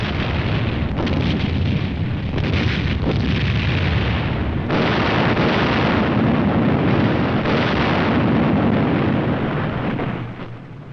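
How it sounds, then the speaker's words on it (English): Napalm drop during a saturation firebombing test in World War Two, a loud sustained roar of fire and blast rumbling continuously for about ten seconds before easing off at the end. "such as this napalm drop in a saturation firebombing test"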